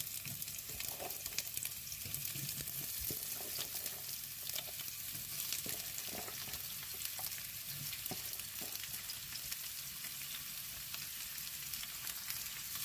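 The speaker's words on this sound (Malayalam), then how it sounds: "നമുക്ക് ഒനിയൻ ജസ്റ്റ് ഒന്ന് ഫ്രൈ പോലെ ആക്കാം" Onions frying medium in a pan for a palak chicken curry, a faint but steady sizzle with scattered crackles and occasional stirring throughout.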